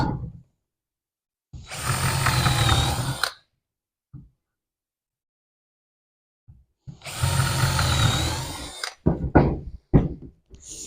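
A drill bores holes in 70 by 35 mm pine timber in two loud bursts of whirring with silence between them, followed by a few short clunks and scrapes.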